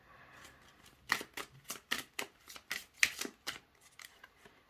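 Tarot-style cards handled and shuffled close up, a run of about eight crisp riffling bursts in an irregular rhythm, fairly quiet with no talking.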